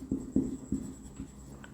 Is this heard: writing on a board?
yes